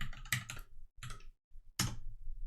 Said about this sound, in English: You'll notice that I'm typing documents with a capital D.